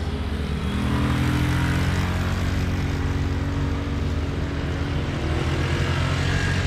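Motorcycles heading down a steep, winding road at Kakantuban Eco Park in Gregorio del Pilar, Ilocos Sur: a loud, steady engine drone that holds throughout without a break.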